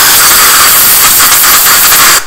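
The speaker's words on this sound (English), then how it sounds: "I'm gonna take some air and just really dry it out." Compressed air blasts loudly and steadily through an SN95 front brake caliper to dry it after brake cleaner, a harsh continuous hiss lasting about two seconds before cutting off abruptly.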